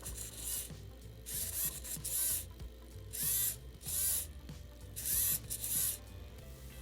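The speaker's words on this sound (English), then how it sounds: "When you bend the servo, or bend the sensor, the servo responds." A small servo motor, driven by a homemade flex sensor, whines and grinds in short bursts, starting and stopping about five times at close range with no talking.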